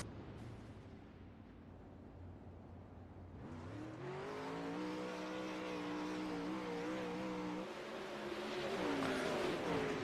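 Race cars in an iRacing league race, a rising chorus of engines swelling from a low rumble into loud overlapping revving as the field gets back up to speed.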